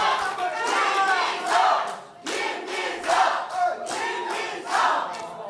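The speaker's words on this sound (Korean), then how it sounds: "사람들이 강하게 환호합니다" A crowd at a Korean political party gathering cheers and shouts strongly in repeated loud surges, each swell of voices rising and falling over about five seconds.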